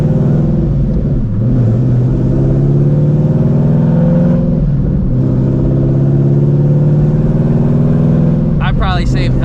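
An 800 hp Shelby GT350 Mustang with a new exhaust and its valves dumped idles and revs in a loud, deep, steady rumble close by, with speech heard over the engine.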